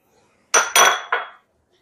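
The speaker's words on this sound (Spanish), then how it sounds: "Le vamos a echar unos garbanzos que ya están cocinados" Cooked chickpeas tipped into a cooking pan, three quick clattering clinks in a row, bright and close, then silence.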